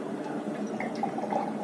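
Half a glass of water poured over roasted oats and milk for an oat and banana smoothie, a soft, continuous liquid splashing and filling sound, close and fairly quiet, with no talking.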